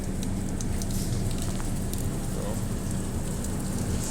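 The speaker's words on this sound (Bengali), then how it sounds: "আর চারদিকে তো এখন বৃষ্টি পড়ছে," Rain falls outside a moving express train, a steady dense hiss of drops blended with a continuous low rumble of the carriage, unbroken from start to finish.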